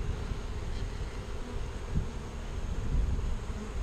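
Honeybees buzz inside a hive with a frame feeder, a continuous low droning hum close to the microphone with slight rises and falls in intensity.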